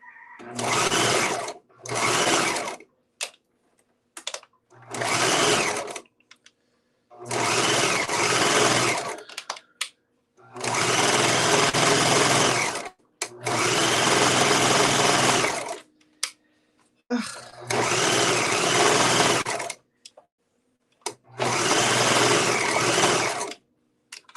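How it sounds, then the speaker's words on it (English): A serger overlock machine sews a skirt in eight loud, close bursts of rapid whirring stitching, each lasting one to three seconds and separated by short pauses. "we have rethreaded the serger from scratch, and I'm going to try it out on my skirt"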